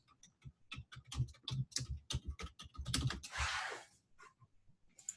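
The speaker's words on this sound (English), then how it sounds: "I would just type that in" Keys clack on a computer keyboard as a job title is typed, a quick irregular run of close, crisp taps broken by a short rushing burst, then a few final taps.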